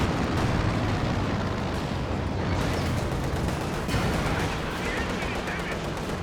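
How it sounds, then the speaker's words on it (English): Dense gunfire and explosions from a World War II strategy game battle with Panzer rifles, rattling and booming continuously under an excited commentator's voice. "Panzer Rifle shooting on the left."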